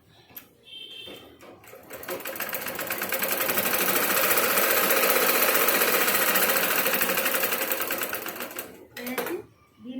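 A sewing machine stitches a blouse piece with a thick folded edge, running as a rapid, steady mechanical whir for about seven seconds at close range, with brief handling clatter before and after.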